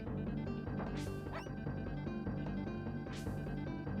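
A dog companion in the Secret of Evermore video game gives two short, sharp barks about two seconds apart, heard faintly over steady game music.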